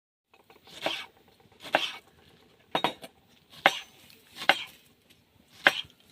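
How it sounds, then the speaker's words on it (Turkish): A knife chops an onion sharply on a cutting board at a campsite in six separate, unevenly spaced strokes, close and crisp against a quiet background. "Soğan doğramış ya. Doğradık abi."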